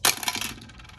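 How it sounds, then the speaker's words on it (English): Dice clattering onto a table during a Zombicide board game: one sharp burst of several hard rattles, then quick scattered clicks fading out over about a second, close and fairly quiet. "She's rolling 4 dice."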